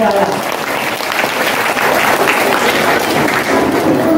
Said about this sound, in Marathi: सावंत सरांनी जोरदार टाळ्या.